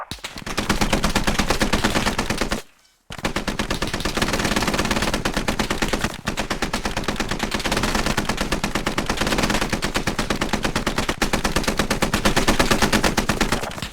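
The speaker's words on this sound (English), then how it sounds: "Get some lead down range and give them a reason to keep their heads down" Sustained automatic rifle and machine gun fire in the military shooter game Squad, a loud continuous rattle of rapid shots with one brief pause, heavy and close throughout.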